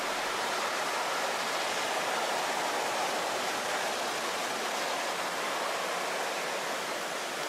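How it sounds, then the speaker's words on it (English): Roaring flash flood water rushing through a forest near Lometa, Texas, a dense, continuous broadband roar like a waterfall, steady and unbroken with no voices. "listen to the water roar"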